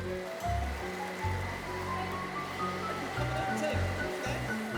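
Water splashes in a big swimming pool, a steady broadband wash with voices and tonal sounds layered over it throughout.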